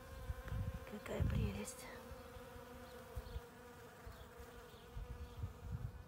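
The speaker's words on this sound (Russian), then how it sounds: "И здесь тоже и пчелки гудят." Bees hum steadily around early spring garden flowers such as primulas, scillas and crocuses, a soft close buzz running through the whole stretch while someone speaks briefly over it.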